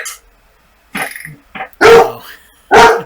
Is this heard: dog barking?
yes